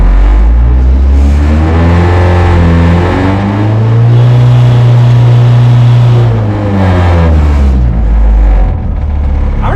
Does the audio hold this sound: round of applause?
no